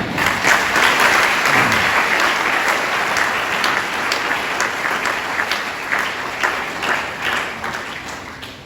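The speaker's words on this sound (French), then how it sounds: "Nous voulons encore entendre les acclamations" A church congregation at a Sunday service applauds, a dense sustained wash of many hands clapping that stays loud throughout and tapers only slightly toward the end.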